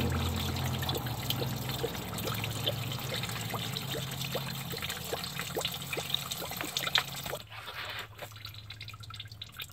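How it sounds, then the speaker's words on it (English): Oil drips from a 2011-2015 Chevy Cruze LS 1.8L with its oil cooler being replaced, falling into a pan in a steady run of distinct close drops over a low hum, which drops away near the end. "So we'll just let that continue to drip."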